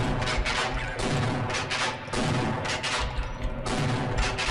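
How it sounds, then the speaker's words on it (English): Rapid, loud shotgun blasts in the Half-Life video game, firing in a dense, rough run that repeats across the clip with almost no pause between shots. "Get that shotgun out."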